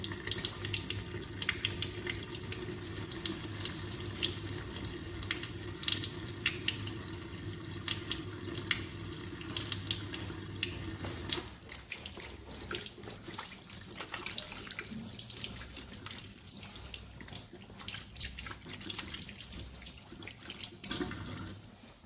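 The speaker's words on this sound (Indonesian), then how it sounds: "Kemudian baru mencuci tangan 6 langkah" Tap water runs steadily into a sink during six-step handwashing in a clinical setting. A full gushing stream softens partway through into lighter splashing as hands move under the flow, with no voices.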